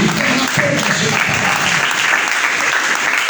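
A Pentecostal evangelical congregation in Mogi Guaçu applauds during a church service, a dense, loud wash of clapping filling the whole stretch, with a few voices mixed in at the start.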